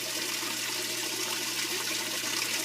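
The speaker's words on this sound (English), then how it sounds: "So the water's filling up the washing machine" A washing machine fills with water, a steady rushing, trickling flow heard up close and continuous throughout, with no voices over it.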